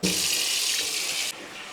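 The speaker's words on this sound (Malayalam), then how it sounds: "കുറച്ച് വെള്ളം ഒഴിച്ച് വെക്കാം" Tap water runs steadily over frozen bones in a sink, a close, even rushing stream that changes tone near the end as the flow shifts.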